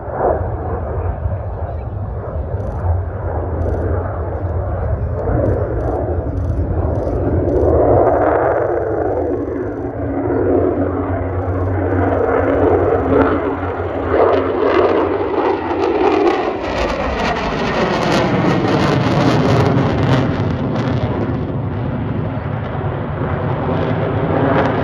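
An F-35 fighter jet flies at the Old Buckenham airshow, a loud, continuous, thundering roar that swells and shifts in pitch as it passes, with a commentator talking over a public address system.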